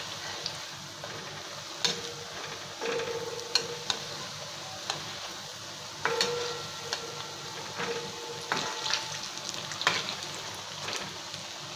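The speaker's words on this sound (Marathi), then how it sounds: "आपली भाजी परतून घेऊया." A fenugreek methi bhaji mixture is stir-fried in a pan under a constant soft sizzle, with repeated knocks and scrapes of a spatula against the metal scattered throughout.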